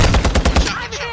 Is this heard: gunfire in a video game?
yes